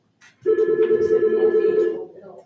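A telephone rings during a county commission meeting, a sustained electronic tone lasting about a second and a half, fairly loud and close, with no talk over it.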